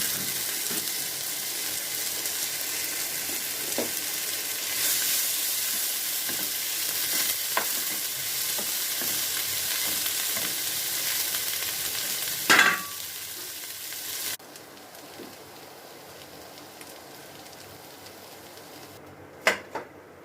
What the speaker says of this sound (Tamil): கீரை, வெங்காயம் எல்லாத்தையும் இதில் போட்டு வதக்கிடுங்க